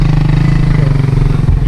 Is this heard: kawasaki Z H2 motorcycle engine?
yes